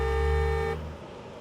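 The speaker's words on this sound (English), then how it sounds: "the horn doesn't sound loud at all" A car horn sounds from inside a well-soundproofed car, one steady muffled honk held for under a second, then cut off into quiet cabin noise.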